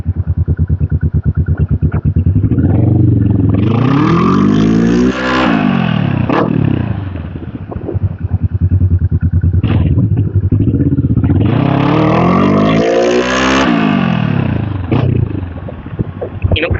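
A motorcycle engine revs loudly and close by, swelling twice in long rising and falling sweeps over a steady rumbling idle, with no talking.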